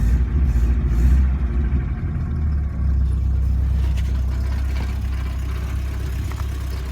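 A 1985 Subaru Brumby engine catches and settles into a noisy, rough idle, a low rumbling hum that stays steady and fairly close, with no talk over it.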